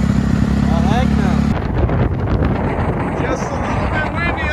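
Strong wind buffets the microphone with a rough, roaring rush, over a steady dirt bike engine drone that drops away partway through; a voice speaks briefly.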